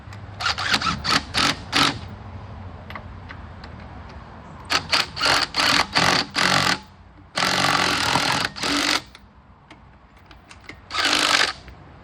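A power tool tightens the brake caliper bolts on a Buick Rainier SUV during a brake pad change, firing in several loud bursts of rapid rattling, separated by quieter gaps.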